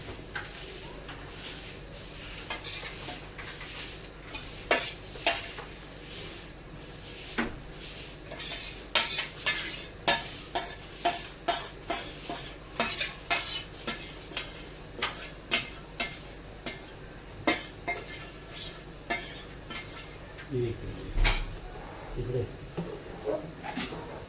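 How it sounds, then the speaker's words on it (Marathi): Kingfish (surmai) pieces go into a simmering Konkan-style fish curry in a pot, with repeated metallic clinks and clatters of utensil against pot in an uneven rhythm, close and moderately loud, over a low kitchen background. "इथे सारात टाकली आहे मच्छी"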